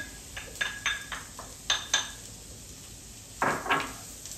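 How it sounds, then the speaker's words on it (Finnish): Onions tip into a warming frying pan in a home kitchen, a string of sharp metallic clinks and knocks of utensil against pan, irregular and close, with quiet gaps between. "Sitten kun on vähän lämminnyt toi pannu, niin laitetaan siihen ensin nämä sipulit"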